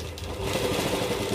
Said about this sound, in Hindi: ऐसे हम इसको सिलना शुरू करेंगे।